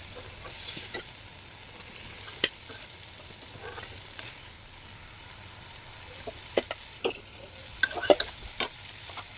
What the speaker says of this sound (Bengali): মাছটাকে ভালোভাবে নেড়েচেড়ে একটু কষিয়ে নিয়ে তারপর আমি উঠিয়ে নিচ্ছি।